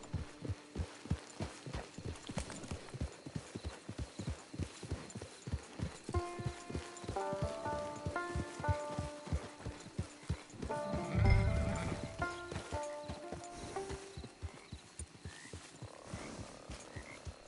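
Horse hooves clip-clop in a steady trotting rhythm throughout, with a short melodic musical phrase and a soft thud partway through, in the video game Red Dead Redemption II Online.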